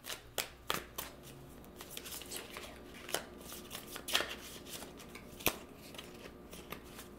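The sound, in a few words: shuffling tarot cards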